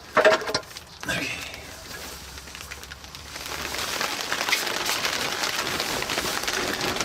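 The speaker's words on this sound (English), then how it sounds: "we'll see if we can talk above the rain." Steady rain falling on a surface, a dense patter that builds after a few seconds, with a couple of brief knocks and movement near the start.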